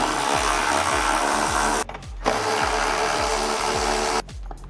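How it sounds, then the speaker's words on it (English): A 10mm socket on a ratchet or power tool removes the factory foot peg bolt on a Honda Rubicon ATV, a steady close mechanical whir with quick repeating ticks and two brief pauses. "Now we're going to take a 10mm socket and go ahead and remove the factory foot peg."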